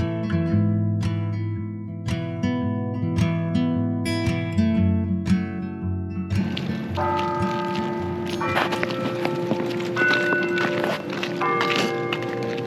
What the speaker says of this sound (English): Church bells are pretty sweet.